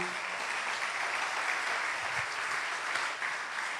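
Church congregation applauding in worship, a steady dense wash of many hands clapping that holds evenly at moderate volume without any talk.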